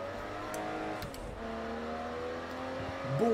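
A race car in Project Cars 2 revs and accelerates in a continuous loud engine whine, with shifting pitch and a rising surge at the end, no voices.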